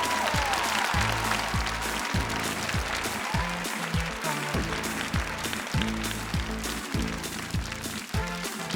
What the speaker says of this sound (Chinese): 掌声欢迎今晚5位男嘉宾出场。